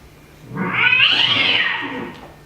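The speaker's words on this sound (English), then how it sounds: "Cats." Cats meow and caterwaul in a single rising, wavering yowl that swells and trails off over a couple of seconds, fairly close and loud, with no talking over it.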